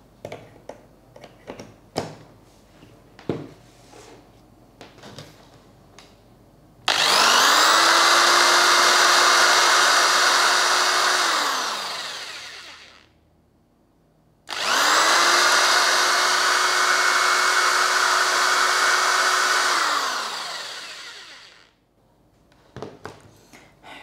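A Glendic GL10RE 10mm corded electric drill runs in two bursts of about six seconds each, whining up to speed and then winding down, with light tapping and clicks between the runs.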